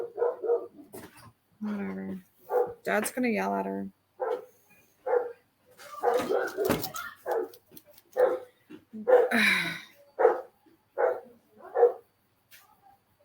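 A pet dog barks repeatedly indoors, sharp close barks scattered among a voice and other family talk that run through much of the scene.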